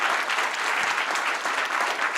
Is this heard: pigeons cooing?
no